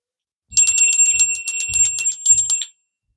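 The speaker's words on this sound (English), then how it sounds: "I'm going to ring the bell and we will go ahead and get started." A small hand bell rung to open a tarot reading gives a rapid, bright jingling burst lasting about two seconds, loud and close, then stops into silence.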